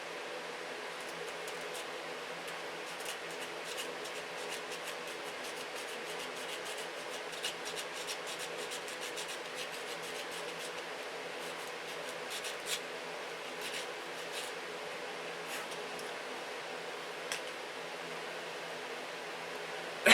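Hand sanding of model airplane wheel doors with sandpaper makes a soft, continuous scratchy rubbing, quiet and close, with occasional faint ticks.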